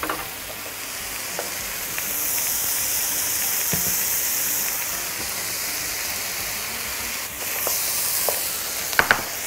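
Spoonful of local ghee sizzling in a hot pan, a steady hissing fry throughout with occasional soft clicks and stirs, close and moderately loud, no talk.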